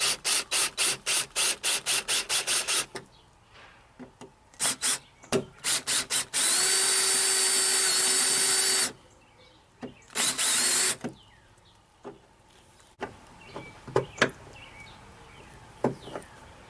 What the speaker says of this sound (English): I went to a smaller drill bit.